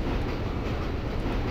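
A train in the video game Breakdown rumbles steadily along its rails, a dense continuous low roll heard up close without any speech.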